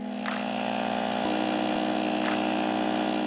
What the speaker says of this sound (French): démarrez le compresseur jusqu'à atteindre la pression nécessaire